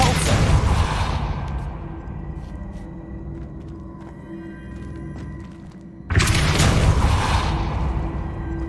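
A Depulso force spell is cast in Hogwarts Legacy: a loud whooshing burst with rumble fades to a lower ambient bed, then a second forceful blast erupts near the end.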